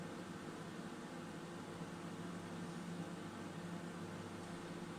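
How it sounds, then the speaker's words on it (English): An 800 watt microwave oven heating scrambled eggs, giving a steady, even hum with a faint fan whir that holds unchanged from start to finish, with no speech. "This is a 800 watt microwave."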